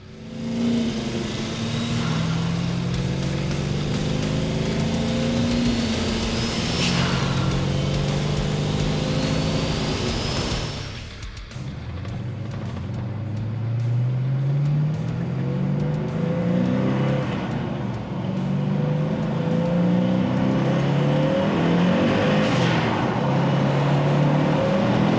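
A 1966 Chevelle with a 1700hp 427 LSX engine accelerating hard, loud repeated revs climbing through the gears with sharp pitch sweeps, a brief lull at a shift, then another strong, roaring pull close up.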